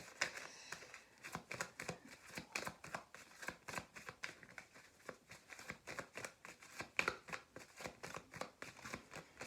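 Tarot cards being shuffled and drawn during a card reading, giving a steady run of quick, crisp riffling flicks and papery slaps close to the mic, with no talking.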